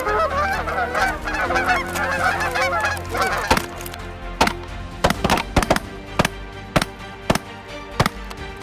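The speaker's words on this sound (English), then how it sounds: "We just seen some geese flying off in the distance." Canada geese fly in toward a waterfowl hunting blind, honking loudly in a dense overlapping chorus for a few seconds, followed by a rapid string of sharp shotgun blasts as the calls fade.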